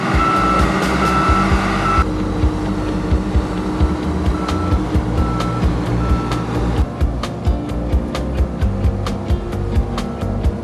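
A boat lift hauls a sailboat out of the water at a boatyard, its engine a loud, steady diesel drone close by, broken by a long series of regular high beeps.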